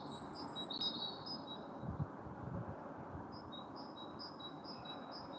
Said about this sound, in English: The birds have been saying good morning all morning so far.